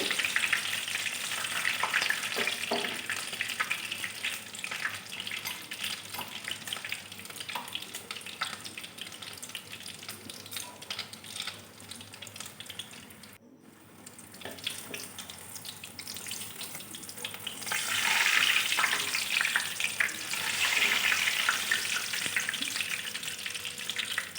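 Potatoes and prawns crackle and sizzle in hot oil in a home kitchen, a continuous frying hiss with stirring clatter, briefly dropping out midway before returning stronger, with no talking.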